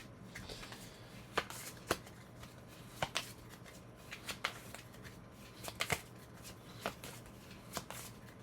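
Playing cards from the board game Terraforming Mars being riffled and shuffled in short crisp bursts, several separate shuffles spread over a few seconds, close up and fairly quiet.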